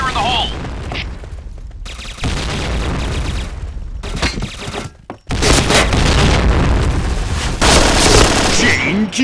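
Grenade explosions in a fast online shooter match, heavy booms and bursts of gunfire layered over busy game noise, with a player's voice talking loudly over the action.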